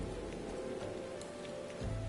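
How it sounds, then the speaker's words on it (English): Rain falls at Camp Drybone in Final Fantasy XIV, a steady, soft patter with a low rumble rising near the end. "And it's raining in Camp Drybone."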